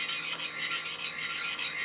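Knife blade drawn freehand across a sharpening stone in quick, regular rasping strokes, about eight passes in under two seconds, close and crisp with no talk.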